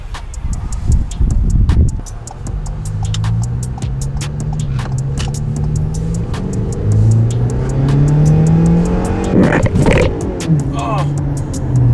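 A 2023 Ford Maverick fitted with a COBB Accessport accelerating on a test drive, its engine note rising and falling through gear changes under a rapid ticking, with a voice speaking in the cabin.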